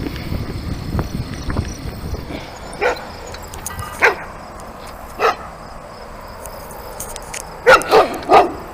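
A dog barks several times at a distance, in sharp separated yelps, then a quick double bark near the end, over steady outdoor wind.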